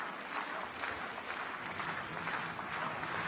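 Portuguese fans in a stadium crowd at a para athletics European championships applaud and cheer, a dense, steady wash of clapping heard from a distance throughout.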